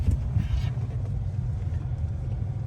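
A Fiat 500e electric car drives along, heard from inside as a steady low road rumble with a faint higher whine, continuous and without voices.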